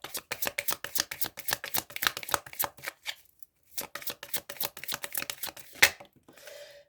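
Tarot cards are shuffled and handled up close, producing rapid, crisp riffling flutters in quick bursts, a short pause, then more flicking and a final sharp snap.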